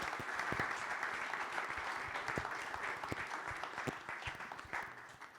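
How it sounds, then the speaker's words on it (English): Sustained applause from an audience at a Birmingham construction industry event honouring Sandy Rees-Jones, a steady broad wash of clapping from a moderately distant crowd, with no talk over it. "We'll give Sandy a big round of applause."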